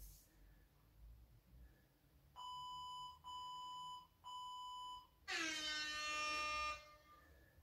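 Workout interval timer sounds three evenly spaced steady electronic beeps, then a longer, brighter tone, loud and close over a quiet background with no talk.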